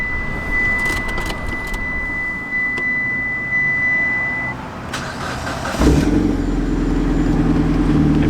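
A Mitsubishi Lancer Evo X with a newly installed clutch starts up indoors at a shop, with a steady high-pitched chime and soft background hum before the engine catches and settles into a loud, even idle.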